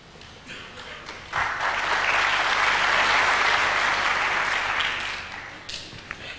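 Crowd applause after Neil Robertson's break-off shot in a 2004 Masters snooker wildcard match against Jimmy White, swelling suddenly from a quiet arena, holding as a full wash of clapping, then fading back down.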